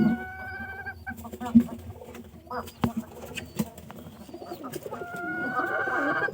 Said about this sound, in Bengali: ওই মুরগিটা ডিম পাড়ার জন্য কসকসাইতেছে